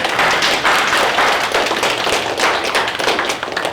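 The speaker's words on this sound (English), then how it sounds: "really deserves a big round of applause" Audience applause after a talk at a memorial gathering, a dense, steady wash of many hands clapping close by, loud and sustained throughout with no voices over it.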